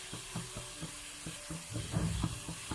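Green chilies sautéing in hot oil, crackling and sizzling steadily at close range with soft scraping stirs of a spoon in the pan for a vegetarian banana-flower thoran, and no one talking.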